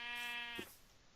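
A single Minecraft sheep lets out one short, clear bleat with a wavering tone in the video game, close and alone, quickly fading to near silence.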